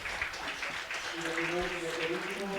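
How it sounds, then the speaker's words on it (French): Audience applause for Carla at a regional education meeting, a moderate steady patter of clapping with voices talking over it. "Alors, Carla, un applaudissement."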